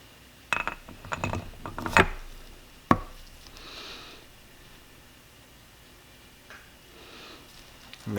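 A cylinder head is set onto a Yamaha YZ125 two-stroke engine, a few close metallic knocks and clinks with one sharp tap, followed by quiet handling noise.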